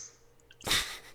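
A single loud, close human sneeze with a sharp burst of breath, standing alone after a quiet pause amid a tabletop role-playing game session.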